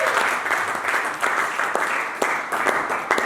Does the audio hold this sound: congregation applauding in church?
yes